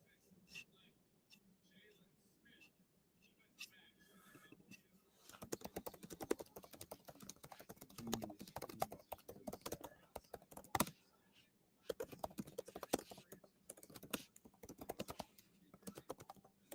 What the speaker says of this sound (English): You're going to hear more typing.